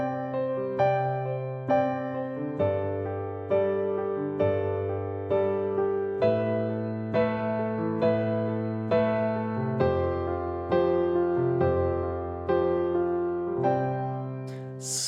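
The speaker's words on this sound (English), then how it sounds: "Pattern number 4 is a right hand sus2." A piano plays a pattern of right-hand sus2 chords over low left-hand bass notes, repeating rhythmically for about fifteen seconds, clear and unaccompanied by talk.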